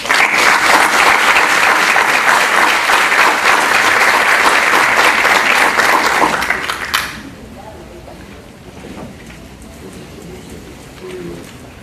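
Audience applause at a legal conference honoring the Superior Court of Justice of Lima, loud sustained clapping for about seven seconds that stops abruptly, followed by quiet room sound and faint talk.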